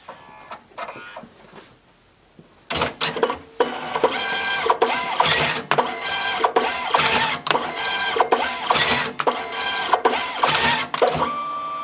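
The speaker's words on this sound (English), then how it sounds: "when I close the printer, it's going to print 5 cuts to line up the ink and the paper" DNP RX1HS photo printer running its alignment cycle, first a few quiet clicks, then a loud close burst of rapid mechanical whirring and clattering pulses as the paper feeds and the cutter lines up, continuing steadily to the end.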